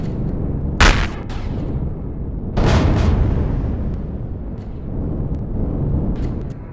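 Artillery fire in the space game Empyrion Galactic Survival, two heavy booming shots a couple of seconds apart, each followed by a long, loud rumbling roar that trails off, alone without talk.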